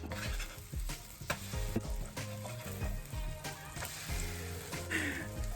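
A pancake fries in butter in a pan, a continuous soft sizzle and crackle with small pops and scraping, close and fairly quiet, with no voices.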